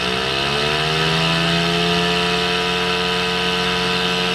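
A simulated aircraft engine on an ATC-810 IFR flight simulator revving up toward 2,000 RPM, a loud, steady droning tone with rising pitch harmonics, continuous and unbroken, with no talk.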